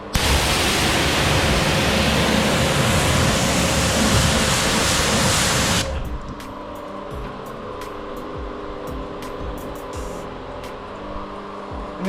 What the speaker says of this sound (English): and then power wash off.